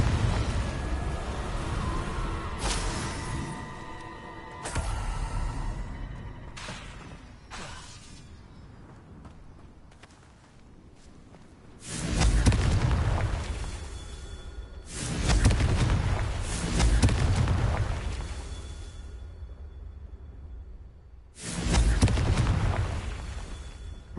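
Confringo blasting curses exploding in the video game Hogwarts Legacy: scattered impacts and rumbles build into four heavy, booming blasts spaced a few seconds apart, each with a rolling tail.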